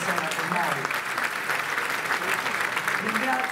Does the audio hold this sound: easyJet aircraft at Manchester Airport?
no